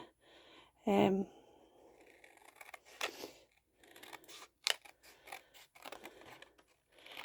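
Paper snipped with scissors while cutting around a shape for a journal cover, a few close, crisp cuts separated by pauses, with quiet rustling of paper between.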